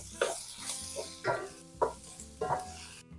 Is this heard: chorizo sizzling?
yes